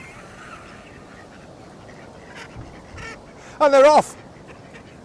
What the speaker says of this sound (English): That one in the middle is a French running duck